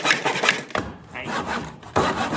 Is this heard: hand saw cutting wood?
yes